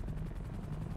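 A helicopter hovers overhead in a GTA 5 roleplay game, its steady low rotor thrum and engine drone filling the whole second at even loudness with no talk.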